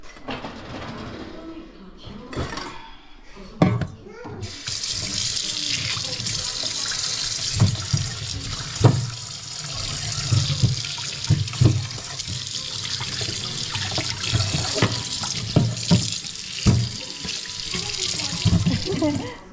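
Tap water runs into a kitchen sink while corn is washed, a steady close splashing hiss that starts after a few seconds, with clunks and handling knocks throughout and occasional talk underneath.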